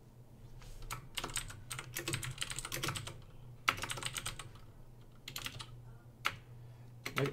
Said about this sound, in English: Look how atrocious my typing is.